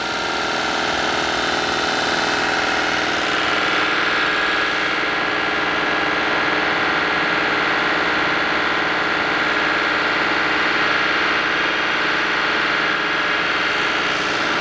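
A cogeneration engine paired with a generator runs steadily just after starting, a loud, continuous mid-to-low droning hum with even vibration and no pauses, close by and without talk.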